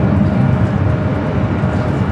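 Singapore Airlines Boeing 777-300ER arriving at LAX from Tokyo Narita, a steady broadband jet roar and rumble at close range, continuous and fairly loud throughout.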